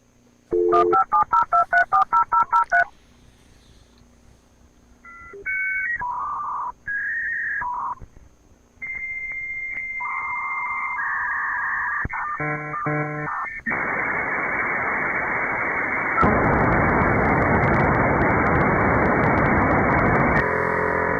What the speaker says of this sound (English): so that's what my modem's supposed to sound like